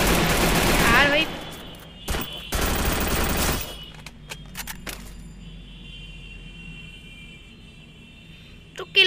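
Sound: gunfire in the video game Free Fire

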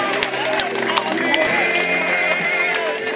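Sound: applause

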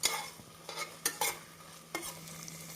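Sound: sautéing onion with ginger garlic paste in a pan

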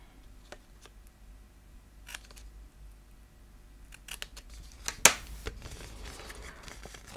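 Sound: scissors cutting paper gift wrap

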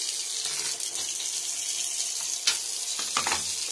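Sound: water running from a newly installed faucet

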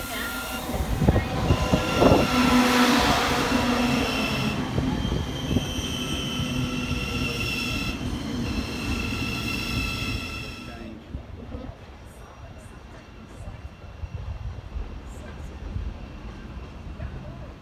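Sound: passenger train arriving at Finsbury Park station

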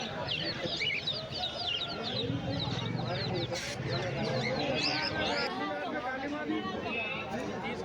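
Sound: chickens and roosters clucking at a market

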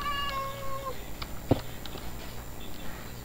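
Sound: cat meowing in Minecraft video game

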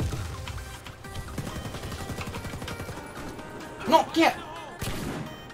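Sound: gunshots in Warface video game

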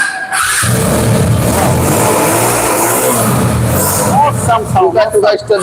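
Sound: self-start motorcycle engine running

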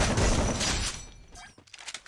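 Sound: gunshot in a video game

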